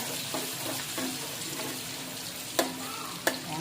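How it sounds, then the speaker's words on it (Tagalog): Ginger fries in hot cooking oil with a quiet, crackling sizzle, broken by a few sharp scraping stirs and clinks of a utensil against the pan. "kapag kumulo na ang cooking oil ay ilagay na natin ang luya"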